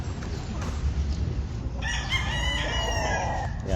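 A gamefowl rooster crows once, clearly and fairly loudly, over a steady rumbling background of farm or yard noise.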